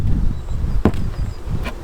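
Honeybees buzz steadily around an open hive during an inspection, with a couple of brief knocks or clicks from handling the frames.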